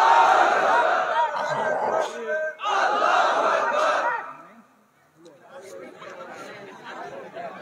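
A crowd at an outdoor Islamic waz sermon shouts a takbir slogan in unison, two loud collective bursts with a short gap between them, then fading into scattered murmuring.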